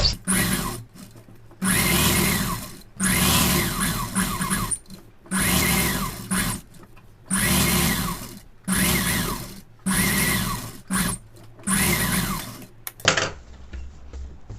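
Sewing machine stitching the neck edge of a lined pa-neck blouse, running in repeated bursts of about a second each separated by short pauses, loud and close with no talk.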